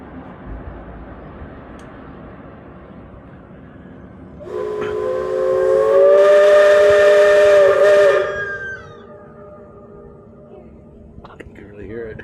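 A distant Cripple Creek Railroad steam train whistle blows a long, steady chord over background murmur, swelling loudly for several seconds before fading out as it echoes through the valley.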